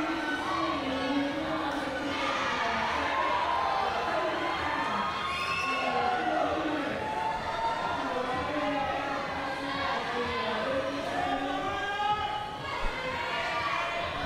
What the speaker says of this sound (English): I think that's the US crowd you can probably hear in the background cheering on for Dominic Labarge